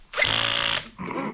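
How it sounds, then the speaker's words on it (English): Close, loud whine of a power drill biting into a metal car seat rail for a bucket seat fitting, with one long burst then a shorter, rougher second burst. "the drill's not liking it. The drill is like sparking."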